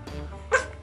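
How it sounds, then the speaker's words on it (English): Miniature Shih Tzu puppies give a single short, high yip near the end, close by, after a soft low murmur. "look at these little beautiful little puppy doggies. Little miniature Shih Tzus."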